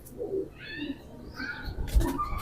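Khatang pigeons coo softly nearby, low throaty murmurs repeating in a loose rhythm, with a few brighter squeaky notes mixed in over quiet background noise.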